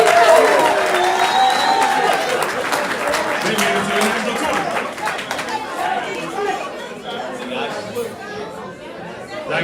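A crowd at an athletics event claps and cheers for a women's soccer coach, moderately loud applause mixed with chatter that gradually thins out.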